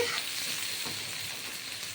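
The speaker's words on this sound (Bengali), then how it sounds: "এই রসুন পেঁয়াজ লাল করে ভাজা হবে" Garlic and onion frying in a pan, an even, dense hiss of sizzling oil close up, steady throughout with faint stirring and no voices.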